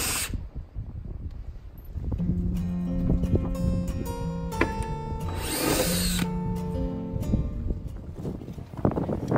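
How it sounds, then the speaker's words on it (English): Power tool such as an impact driver or drill removing bolts wrapped around a leaning fence pole outdoors, with bursts of whirring motor and mechanical rattling at moderate loudness, stopping and starting over several seconds. "loosen up the fence pole by removing all the bolts that is wrapped around it"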